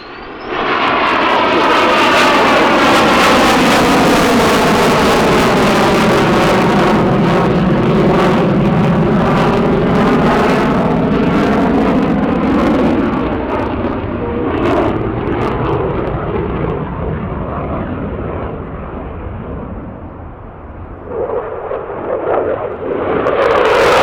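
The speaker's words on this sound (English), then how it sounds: "From the Royal Danish Air Force. F-16 Fighting Falcon." A Royal Danish Air Force F-16 Fighting Falcon roars past at an air show, a loud jet sweep that rises, shifts pitch as it passes, then fades into a distant rumble.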